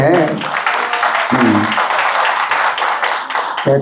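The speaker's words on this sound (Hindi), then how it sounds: "अब आज राम कथा में जो है केवल ताली ताली बजी" Audience clapping at a Ram Katha recitation gathering: dense, loud, continuous hand claps from a close crowd, briefly overlapped by a voice speaking at moments.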